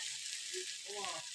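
Cauliflower florets frying in a cooked-down masala, a steady broadband sizzle that runs throughout, with soft stirring and faint voice-like tones underneath.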